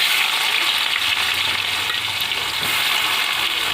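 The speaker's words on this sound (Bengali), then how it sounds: "এই যে পেঁয়াজ কুচিটা দিয়ে দেবো তেলে।" Chopped onion frying in hot oil while pork curry is being prepared, giving a steady, dense sizzle that stays loud and even from start to finish, with no talking.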